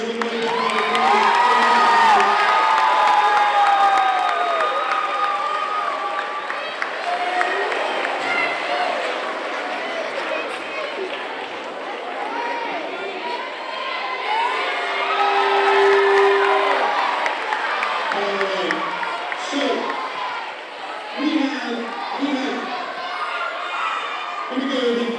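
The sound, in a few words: children cheering and applauding in school assembly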